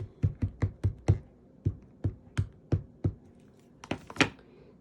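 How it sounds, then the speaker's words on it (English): Scissors snipping paper for a country-style gift card holder, with a series of crisp, close cuts, quick at first and then slower and irregular, and no one speaking. "So we are going to fussy cut this out."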